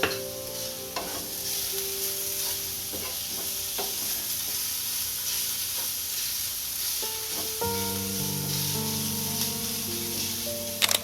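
Ginger garlic paste hits hot oil in a pan while cooking dahi bhindi, giving a steady close sizzle and hiss with stirring scrapes, then tonal clinks of utensil on metal near the end, no one talking.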